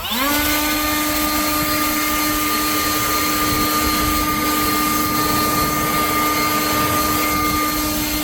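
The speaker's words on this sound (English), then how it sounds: "hit it with the blower. Keep me cleaned off." An air blower cleaning off routed epoxy table edges spins up quickly into a loud, steady whine with a strong tonal hum that holds constant throughout, close by, with no talk.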